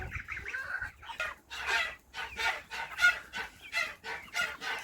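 Chicks of a large poultry breed cheep in a dense, continuous chorus of short high peeps, close and fairly loud, with no talking.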